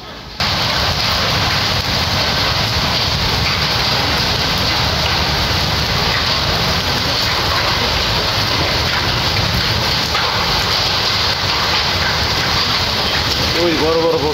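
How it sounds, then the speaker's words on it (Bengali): Hail pours down in a heavy storm, a dense continuous roar of hailstones and rain pelting surfaces nearby, loud and unbroken throughout. "হঠাৎ করে আজকে যে বৃষ্টি পড়তেছে, আর বৃষ্টি তো না, শিল পড়তেছে"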